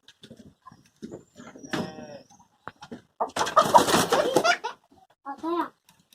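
A hen clucking in short, scattered calls on a farm while someone tries to catch it, with a child-like voice talking in between and a louder burst of flapping and squawking midway.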